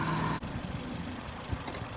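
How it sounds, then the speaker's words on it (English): A Suzuki Ignis Sport engine idles with its rocker cover off while coolant is bled after head gasket work, a steady low mechanical hum heard up close with a brief dropout near the start. "I tend to keep the engine running for a few minutes"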